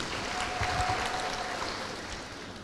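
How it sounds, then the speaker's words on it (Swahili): Teachers clap together at an official event launching the Samia Teacher's Mobile Clinic, producing a steady, dense wash of applause that fades slightly toward the end. "Tujipigie makofi walimu"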